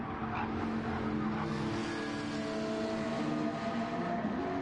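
A Viper V10 front-engine, rear-drive race car in a racing video game, its engine droning steadily at high revs, a sustained loud tone with faint tire noise and no gaps.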